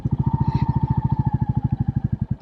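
A Royal Enfield Bullet 350 single-cylinder motorcycle idles close by with a loud, even thump-thump beat repeating rapidly throughout, steady and alone.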